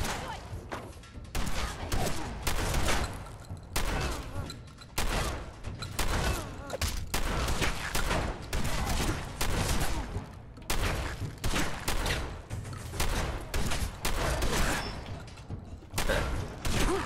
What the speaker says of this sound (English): Quite a little shotgun duel we got going here.